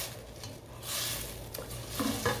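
BBQ shrimp sauce simmers and reduces in a pan for New Orleans style shrimp, a soft continuous bubbling with a few light clicks near the end and no talk.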